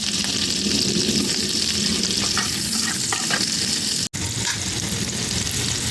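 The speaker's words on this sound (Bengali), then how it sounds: "এবার আমি রান্না করবো এটাকে। পেঁয়াজের কুচি দিয়ে দিলাম," Chopped onion hitting hot oil in a pan, a loud dense sizzle with stirring sounds running steadily throughout.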